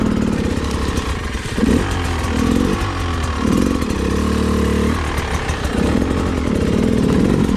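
A Beta 300 Race Edition dirt bike engine roars loud and close while being ridden, its revs surging and easing in repeated waves over a constant throaty drone.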